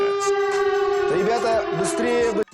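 A loud wailing siren holds a steady tone, then bends and warbles before cutting off abruptly.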